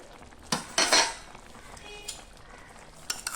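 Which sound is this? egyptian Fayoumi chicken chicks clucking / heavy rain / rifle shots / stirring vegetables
stirring vegetables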